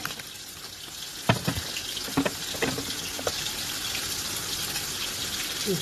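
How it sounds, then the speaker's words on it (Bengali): Fish frying in a pan on a gas stove gives a steady, fairly loud crackling hiss with a few sharper pops scattered through it. No one speaks. "এদিকে মাছটা ভাজা হচ্ছে।"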